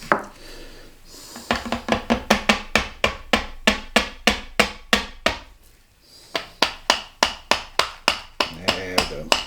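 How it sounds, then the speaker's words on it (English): A nylon-tip non-marring hammer taps a gun stock being refinished in a quick run of light, evenly spaced knocks. After a brief pause, a second series of taps follows, all close and crisp. "such as this one with a nylon tip, and you can tap it a little bit."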